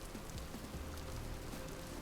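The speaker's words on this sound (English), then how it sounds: "it has been raining non-stop since I spawned in here" Rain falls in the Vintage Story game world, a faint, continuous patter of drops on surfaces forming a soft, even hiss with no talking over it.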